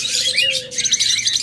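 Cage birds such as lovebirds, budgerigars and cockatiels at a bird farm, a quick flurry of overlapping high chirps and tweets, close and lively.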